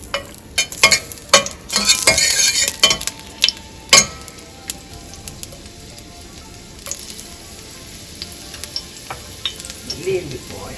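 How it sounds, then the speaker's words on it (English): Onions fry in a hot pan for a chicken biryani garnish, giving a steady sizzle with sharp crackles and clattering stirring strokes, loudest and busiest early on, then settling to a gentler hiss. "Let's fry some onions."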